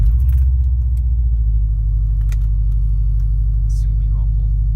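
Deep, steady idle rumble from the boxer engine of a 2013 Subaru STI, loud and close with a throbbing low pulse, plus a few faint clicks and a brief voice in the background.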